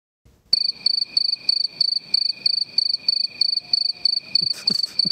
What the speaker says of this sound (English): So the crickets go on for a long ass time.